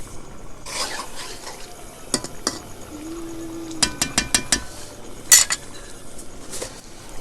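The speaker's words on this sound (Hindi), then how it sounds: "अब हम चिकन को दही में भून लेंगे।" Chicken in yogurt is stirred in a karahi: a metal spoon scrapes and clinks against the pan in irregular strokes, with a quick run of taps and a low steady hiss underneath.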